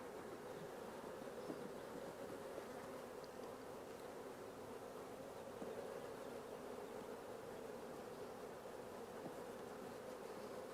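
Honey bees hum steadily inside an open hive box full of honey frames, a dense continuous drone close by that stays even in loudness throughout, with no talk.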